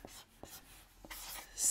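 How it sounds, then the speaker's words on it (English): A pen drawing on paper during a timed drawing prediction, with soft scratchy strokes and a few distinct taps, faint and close up, followed by a brief louder rustle at the end. "start drawing now"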